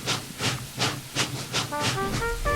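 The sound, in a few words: steam locomotive hissing as it heaves along the line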